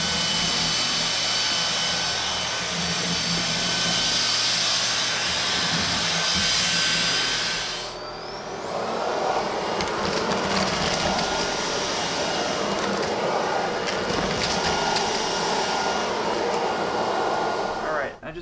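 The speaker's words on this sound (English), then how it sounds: "Let's see what happens when we vacuum the house with it." A Roidmi F8 cordless stick vacuum cleaner running up close with a high, steady whine, its pitch stepping up midway as the motor changes speed, with faint talk beneath.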